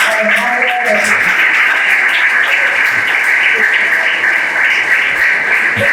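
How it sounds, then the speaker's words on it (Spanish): Audience applause welcoming Dr. Alejandro Herrera to the podium at a philosophy lecture at Colegio De La Salle in Santiago, a steady, dense wash of clapping filling the hall without a break. "Recibamos con un fuerte aplauso al doctor Alejandro Herrera."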